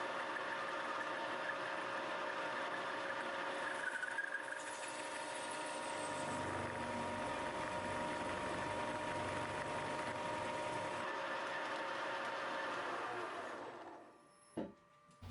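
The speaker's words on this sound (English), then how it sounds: "When countersinking the holes for the spring washers with a 50mm end mill, the clamping proves to be too weak." A milling machine countersinks holes for spring washers with a 50 mm end mill under weak clamping, giving a steady mechanical drone with a low rumbling cut that runs throughout and stops abruptly near the end.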